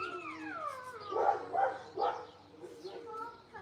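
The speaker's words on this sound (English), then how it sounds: "My neighbor's dog is always loud every time we go outside." A neighbor's dog barks outdoors in a few loud, separate bursts partway through, with a person talking over and around the barks.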